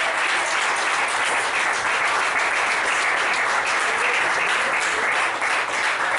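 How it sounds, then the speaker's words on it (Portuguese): A church congregation applauds loudly and continuously during an evening service, a thick, even wash of many hands clapping close by with no break. "Uma salva de palmas ao Senhor Jesus."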